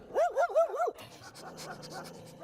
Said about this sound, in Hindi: कुत्ते उसे देखकर सूंघते हैं।